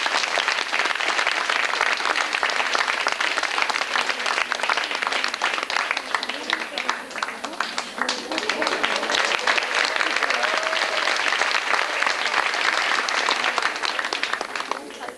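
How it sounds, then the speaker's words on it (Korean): Sustained audience applause fills the hall after a Korean court-dance performance of Chunhyangjeon, dense steady clapping at close range throughout, with a brief murmur of voices partway through. "박수 좀 부탁드립니다"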